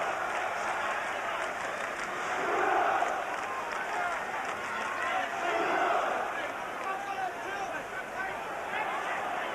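Arena crowd at a heavyweight boxing match between Tim Witherspoon and Frank Bruno keeps up a continuous roar and murmur, swelling in a couple of places, with a commentator's voice running faintly underneath.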